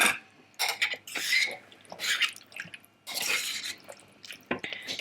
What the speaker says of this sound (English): just add that in and then stir it through like so.